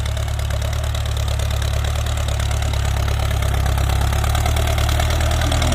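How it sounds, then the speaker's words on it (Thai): An engine runs at low rpm with a steady, loud, rumbling drone close by. The idle stays unbroken throughout, with no voices. "แรงเดียวกันเลย นะ พี่ น้อง รอบเครื่องกับต่ำครับ"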